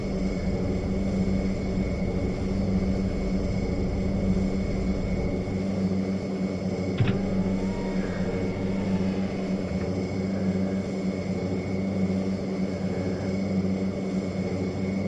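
In a flight simulator game, an aircraft engine drones steadily at takeoff power with a tonal propeller hum, close and constant throughout, with a small click partway through.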